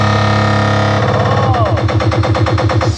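Loud NDR speakers in a sound shop pump out booming, distorted bass with a heavy repeating beat, steady and overpowering throughout, with a sweeping effect layered partway in.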